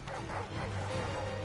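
Dogs bark and yip in the video game Final Fantasy XVI, several short barks under a low droning game soundscape, fairly quiet and mid-distance.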